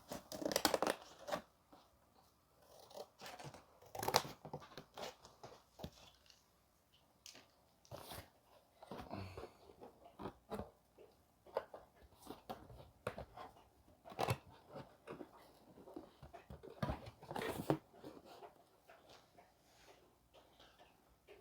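Sheet metal patch for a 1988 Ford truck cab being cut with snips, a series of sharp irregular crunching snips and clacks in short bursts, fairly close, with quiet gaps between.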